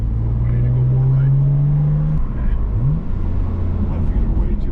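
A BMW M4 F82 engine heard from inside the moving car climbs in a smooth, loud rising pull, then gives a short, sharp rev blip before settling into a lower drone.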